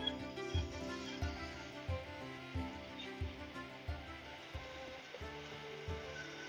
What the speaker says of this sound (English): turn on the hose